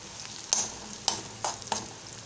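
Onion and chili sautéing in a pan with turmeric and salt, stirred in a few quick scrapes over a steady low sizzle, close and fairly quiet.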